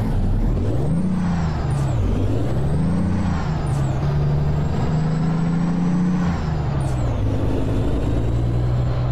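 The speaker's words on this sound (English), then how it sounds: "You guys get to hear the engine" A truck engine idles and revs in American Truck Simulator, a loud steady low drone whose pitch rises and falls in slow swells, with a few short air-brake hisses cutting in near the top.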